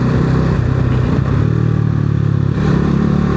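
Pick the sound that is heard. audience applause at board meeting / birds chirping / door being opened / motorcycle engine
motorcycle engine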